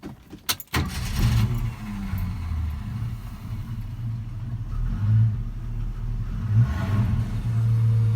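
A 1968 Ford Mustang Coupe cranks with a few quick bursts, then its engine catches and settles into a steady, close, low idle rumble with slight swells.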